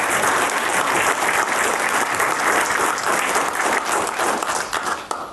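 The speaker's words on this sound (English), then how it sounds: "So how about a round of applause for Mr. Jeff?" Sustained applause from a lecture audience honouring a guest speaker, broad steady clapping filling the room for about five seconds before thinning slightly at the end.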